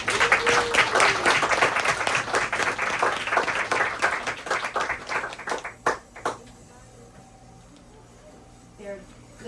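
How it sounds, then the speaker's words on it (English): Audience applause at the end of a Girl Scout Gold Award presentation on mental health awareness: dense, steady clapping for about six seconds that thins into a few last claps and fades to near silence, with faint voices mixed in. "So let's give her a round of applause."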